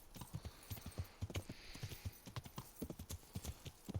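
Horse hooves clip-clop in a steady walking rhythm on a road in the medieval video game Kingdom Come Deliverance, moderately close, with faint ambient background and no talking over it.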